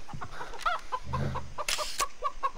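Chicken clucking in the video game Far Cry 3, a series of short, close clucks and squawks in uneven rhythm, with a louder burst near the middle and no talk over them.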